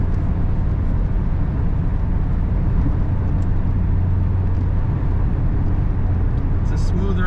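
A 1996 Chevrolet Corvette convertible with an automatic transmission cruising down a road, giving a steady loud low rumble of engine and road noise throughout.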